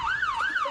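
A video-game ambulance siren wails in a rising and falling sweep, loud and close, cycling twice in under a second with no voices over it.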